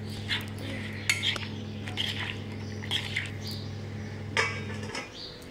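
A spoon scrapes and clinks against a pan while yellow pumpkin vegetable is stirred, several short metallic knocks spread over a steady low hum, close and moderately loud.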